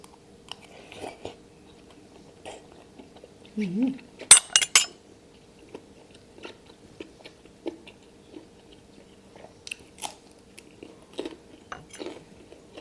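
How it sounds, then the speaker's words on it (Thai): Someone eats fresh food with spicy Thai papaya salad, with close, quiet chewing and scattered clinks of cutlery against dishes, including a brief louder crunch and clatter midway and a soft vocal sound. "สดกินเลย กินกับตำบักหุ่งแล้วค่ะ"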